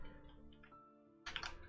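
Typing on a computer keyboard, a few quiet clicks followed by a brief faster cluster of keystrokes near the end, heard close and faint with a low steady hum underneath.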